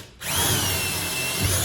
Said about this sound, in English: I'm going to drill some holes in the center where I know the vacuum tube's at.